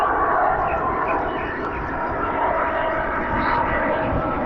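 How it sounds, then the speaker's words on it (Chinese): A large airplane passes overhead above a city-corner park with lawns in Shanghai, giving a steady, broad engine roar that holds level throughout without a clear rise or fade. "正好一架大飞机 飞过我的头顶"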